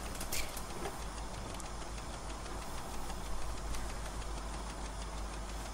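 An overheating tractor engine in Farming Simulator 15 runs steadily at a rough, knocking idle, a continuous mechanical drone at close range with no speech over it.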